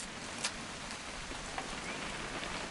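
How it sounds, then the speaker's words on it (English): Steady rain in the video game What Remains of Edith Finch falls throughout, a dense hiss with a few louder drops tapping close by; no voices. "It's gonna rain the whole weekend, isn't it?"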